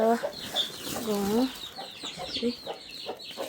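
Village hens and chicks in a Nepali farmyard coop give a few close clucks and short rising calls. The calls come over soft background noise, with faint voices nearby.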